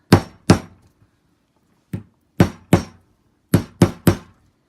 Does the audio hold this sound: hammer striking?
yes